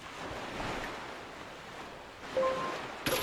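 Ocean waves from the Wind Waker video game rise and fall in a steady, soft wash of surf and wind, with a couple of brief chime-like tones near the end and no talking.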